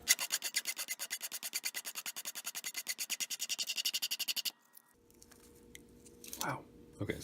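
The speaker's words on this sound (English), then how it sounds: "Just gonna file out this little area that isn't the bevel so that there's more contrast between blade and the" A hand file rasps back and forth on a knife blade made from a file, about thirty rapid, even strokes up close. It then stops and gives way to quiet handling noise.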